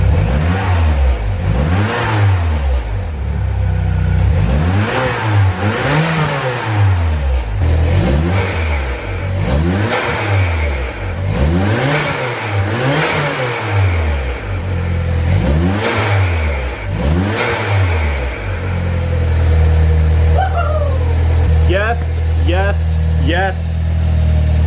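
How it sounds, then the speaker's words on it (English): A Saab 9-3 fitted with a BSR open air intake revs repeatedly up and down at a steady rhythm, loud and close, then settles to an idle near the end. "Let's go ahead, start it up, give it some revs,"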